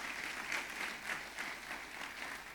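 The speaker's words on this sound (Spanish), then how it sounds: "¿Por qué no te das un aplauso adelantado?" A church congregation breaks into applause, a faint but steady wash of many hands clapping from a distance, continuous through the short moment with no voices.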